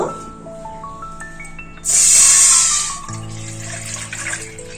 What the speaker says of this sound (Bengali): এই কড়াইতে জল দেব।